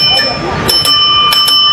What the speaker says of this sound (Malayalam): ഡ്രൈവർ ഉറങ്ങിക്കഴിഞ്ഞാൽ ഡ്രൈവർ കോട്ടോ വിടുകയോ കണ്ണടയ്ക്കുകയോ മൊബൈൽ ഫോൺ എടുക്കുകയോ ചെയ്താൽ അലാറം ഇവിടെ അടിക്കും